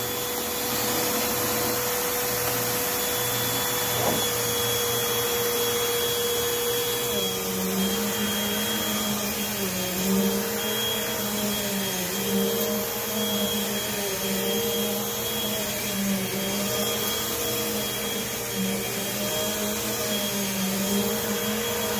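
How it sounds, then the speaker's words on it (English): Eureka AirSpeed AS1000 upright vacuum cleaner running steadily after a repair, a loud, continuous close-up motor drone with a constant whine that holds for the whole stretch, with no talking. "Okay, so vacuum is repaired. It is working now."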